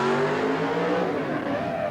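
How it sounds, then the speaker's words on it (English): A fire truck is driven during a 1977 firefighting competition, its engine roaring loudly and steadily as it moves, with the crowd and event noise blended in. "Good smooth handling of the truck by Jack Cloudman."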